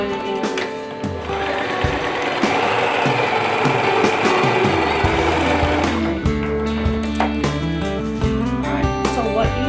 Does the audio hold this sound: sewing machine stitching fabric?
yes